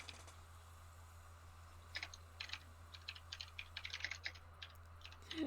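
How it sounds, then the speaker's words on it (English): Quick bursts of typing on a computer keyboard, close and clicky, irregular clusters of keystrokes over a low steady hum, no voices. "I hear you typing."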